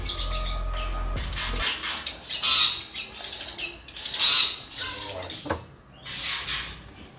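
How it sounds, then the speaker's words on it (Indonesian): A cendet (long-tailed shrike) gives repeated sharp, raspy squawks and chirps in short bursts, close and loud, with brief pauses between calls and a low hum fading at the start. "bagi yang penasaran dengan cendet Muke Gile, ini dia burungnya"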